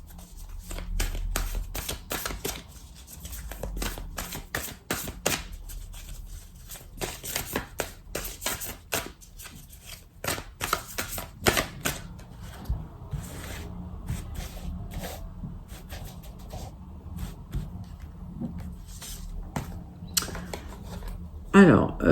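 Starseed Oracle cards are shuffled by hand in a quick run of papery flicks and riffles, dense for the first half and thinning later. A steady low hum and faint background voice sit under the card noise.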